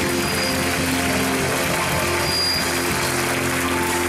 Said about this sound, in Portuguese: Dê um aplauso que glorifique, que exalte.